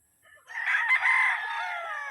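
A rooster on a gamefowl farm crows once, loud and close, its harmonic call rising and holding for under two seconds after a brief soft lead-in, with no talk.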